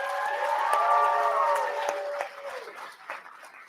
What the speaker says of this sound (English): Can we get a real big round of applause for him?